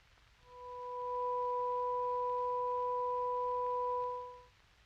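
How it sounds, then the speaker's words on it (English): A 500-cycle sine tone with its second harmonic added, a pure, steady, two-pitched electronic hum that fades in, holds level for about three seconds, then fades out against near silence. "To this fundamental, we will now add the second harmonic."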